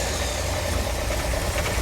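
A 1965 Buick Riviera Gran Sport engine idles with a steady low rumble, even and continuous throughout, with no voices.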